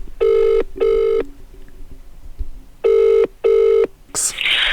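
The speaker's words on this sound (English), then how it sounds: "I'm gonna ring in sick to a bar in Manchester." A UK phone ringing out on a call to a bar in Manchester, with two pairs of loud, close double-burst rings separated by a pause, then a brief burst of noise as the line connects.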